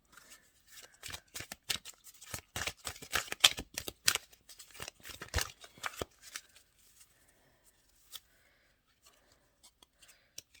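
Tarot cards are shuffled close up in quick papery riffles and flicks, busy for several seconds before thinning to a few isolated card snaps and taps.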